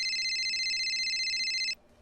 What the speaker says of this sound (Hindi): अरे देखिए, बोस का फोन आ गया।